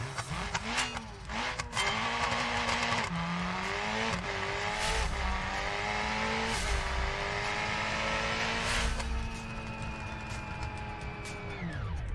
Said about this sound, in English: I'm just going to go full throttle to begin with